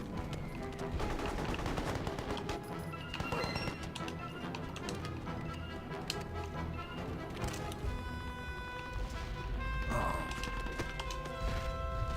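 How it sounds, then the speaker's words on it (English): Video game Mercenaries on Xbox: dense, continuous gunfire crackles with rapid bursts and impacts amid a busy combat mix and music-like tones, sustained throughout at moderate level. "What the hell are you shooting at?"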